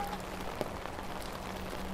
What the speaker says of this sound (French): Je pense qu'on entend bien la pluie quand même.